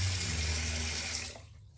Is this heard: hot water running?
yes